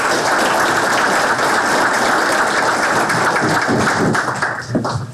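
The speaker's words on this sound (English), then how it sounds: "let's have a round of applause" A conference audience claps loudly for a keynote, dense and sustained throughout before the clapping begins to thin out near the end.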